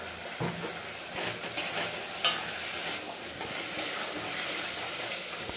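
A spice masala of salt, turmeric, chilli powder, tomato and ginger-cumin paste stir-fries in a pan with a soft, continuous sizzle, and a few louder scrapes of the spoon stand out now and then. No one talks.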